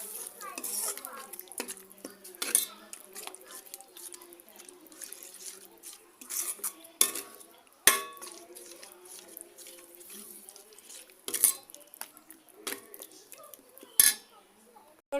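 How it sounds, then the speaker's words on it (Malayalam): Jaggery syrup is stirred into a tomato curry in a pan, with scattered clinks and scrapes of a utensil against the pan and short sharp knocks between quieter stretches. "ശർക്കരപ്പാനി ചേർത്ത് ഇനി നന്നായിട്ട് ഇതൊന്ന് മിക്സ് ചെയ്ത് കൊടുക്കാം."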